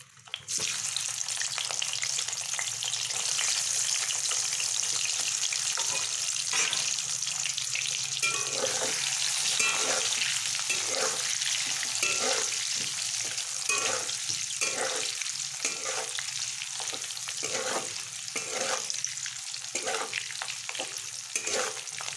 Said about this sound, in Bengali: আলুগুলোকে একটু ডিপ ফ্রাই করে ভেজে নেব।